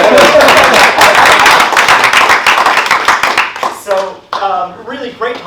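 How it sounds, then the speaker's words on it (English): Loud, close clapping from an audience at a robotics in construction talk rattles on for about three seconds, thins into a few scattered claps, then gives way to someone speaking. "Now we gotta clap."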